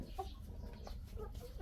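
Chickens feeding at a rural farmstead cluck in short soft bursts, several scattered calls over low background noise, faint and close.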